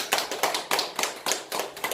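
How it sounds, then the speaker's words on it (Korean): Audience clapping in welcome at a speech therapy session, a group of hands beating in a steady, rhythmic pattern of about eight even bursts, close and clear. "환영의 박수 한번 해볼까?"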